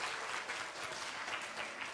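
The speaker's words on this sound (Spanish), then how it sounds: "¿Qué tal si nos brindamos un fortísimo aplauso por la presencia de tan selecto público en esta mañana?" A morning audience at a cultural talk and exhibition event applauds, dense steady clapping filling the room for a couple of seconds.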